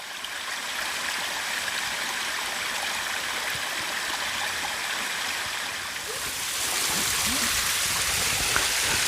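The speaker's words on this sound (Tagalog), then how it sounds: "tapos na po namin hugasan yung isda" Running water pours steadily over fish being washed outdoors in a forest setting, a broad continuous splashing rush that grows louder and rougher toward the end, with no talk over it.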